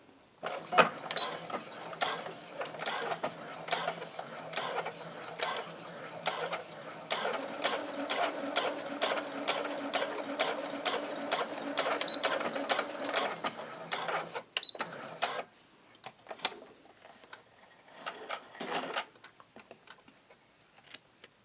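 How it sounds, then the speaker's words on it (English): A sewing machine stitches test fabric with a twin needle, running in a steady, fast, close mechanical rhythm for about fourteen seconds before stopping, followed by a few scattered clicks. "So you can go ahead and backstitch and then see how your stitch comes out."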